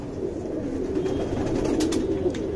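Tournament pigeons cooing in a loft in Bangalore, a low continuous murmur of several birds close by, steady and unbroken throughout.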